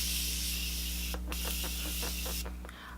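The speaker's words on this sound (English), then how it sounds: "I'm going to go in with the Morphe Continuous Set and Spray" Morphe Continuous Setting Spray misted onto a face: a steady close hiss from start to finish, with a brief louder burst near the middle and another toward the end, and no talking.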